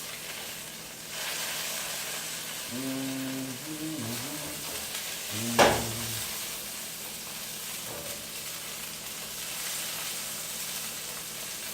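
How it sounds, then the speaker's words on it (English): Chicken pieces browning in a hot frying pan give a steady, low sizzle throughout, with a brief louder crackle of spattering grease midway and a few quiet clinks. "just browning it on the outside"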